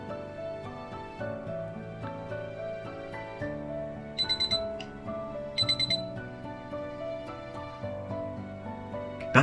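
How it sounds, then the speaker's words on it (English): YTE006 camera beeping while formatting its memory card: two quick sets of bright, short electronic beeps ring out over steady background music. "The sound beep beep will come up."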